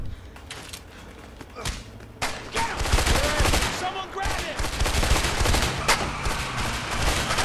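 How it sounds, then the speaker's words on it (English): Gunfire from the video game A Way Out: a dense, sustained burst of rapid shots and bangs after a few scattered single shots, loud and close, continuing for several seconds. "They're all shooting"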